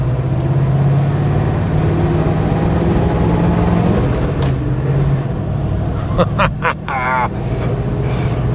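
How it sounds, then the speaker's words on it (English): A Ford flathead engine drones steadily as the old car with a three-speed gearbox drives down the road, a loud continuous rumble with some rattling and clicking near the end. "Let's get this down the road and see if we lost that vibration."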